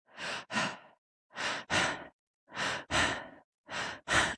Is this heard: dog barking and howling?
no